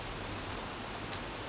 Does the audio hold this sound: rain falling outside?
yes